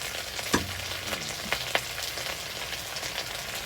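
Morning glory greens hitting a hot wok for a stir-fry of water spinach with crispy pork, giving a steady broadband sizzle with a few sharp clatters and pops from stirring, close and moderately loud, no talking.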